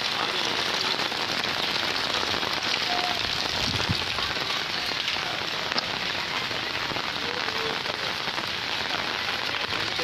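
Heavy monsoon rain pours onto a flooded street in a constant, loud, unbroken roar of drops that lasts throughout with no voices.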